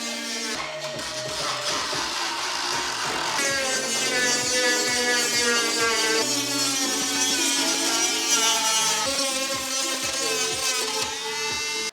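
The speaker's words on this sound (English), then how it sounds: "I switched to this bigger rotary tool that I just bought this morning from Harbor Freight, and this little sandpaper attachment" A larger Harbor Freight rotary tool fitted with a small sandpaper attachment sands the front-end body of an SRT8 car, a loud, continuous high whine with shifting pitch and grinding texture, held steady for the whole stretch with no speech.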